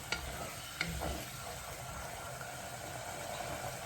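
Mushrooms stirred into a risotto in a pan, with a steady close sizzle and frying hiss under soft scraping and stirring, plus a couple of brief utensil knocks.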